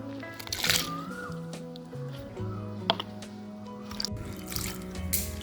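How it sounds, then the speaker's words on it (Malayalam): Cut cauliflower florets washed in warm water, with soft squishing, dripping and sloshing of hands moving through the liquid, close and fairly quiet, with occasional clinks. "ഇനി നമുക്കിത് വെള്ളത്തിലിട്ട് കഴുകി നന്നായിട്ട് കഴുകിയെടുക്കണം."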